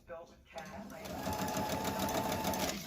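Sewing machine stitching a simple pillow from leftover Super Mario fabric, backstitching with a steady close motor whir that starts after a brief pause and runs continuously under a person's talk.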